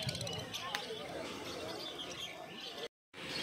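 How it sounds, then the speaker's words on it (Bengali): Small white long-tailed cage birds crowded together in a cage at a busy pet market, chirping and cooing continuously amid crowd chatter, with a brief dropout near the end. "এই খাঁচাটার মধ্যে প্রচুর হোয়াইট লং টেল আছে দেখতে পাচ্ছেন।"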